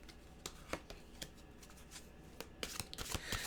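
Tarot-style mantra cards being shuffled by hand, a run of crisp riffling flicks and slaps spaced through the moment, with a denser burst of card noise near the end and no talk over it.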